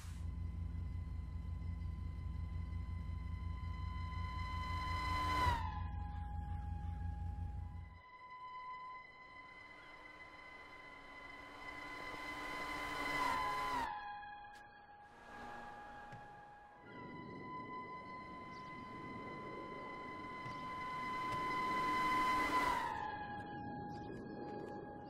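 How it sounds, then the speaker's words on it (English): A car horn held down in GTA 5 Online while driving past others, giving long sustained tonal blasts whose pitch drops as each car passes, much like a Formula One engine, repeated several times at moderate volume. "once you drive past someone, it sounds a lot like a Formula One car"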